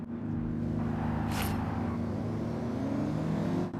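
Toyota Prius in Forza Horizon driving in electric mode: a steady, fairly quiet hum and whir with a low tonal drone, continuous and smooth for several seconds, with no talking.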